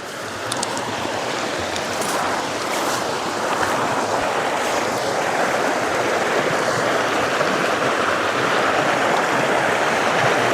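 A swollen mountain stream rushes loudly and steadily, its broad continuous roar of flowing water filling the whole scene with no pauses.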